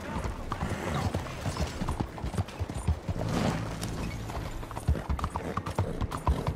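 Horse hooves clip-clop in Red Dead Redemption 2, a dense run of close, loud hoofbeats from a mount ridden in the game, with mechanical clatter mixed in and no talk over it.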